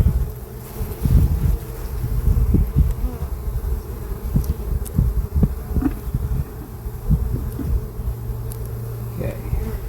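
Honeybees droning steadily around an open hive, a dense close buzz that fills the whole stretch, with some wind noise on the microphone and a voice speaking over it.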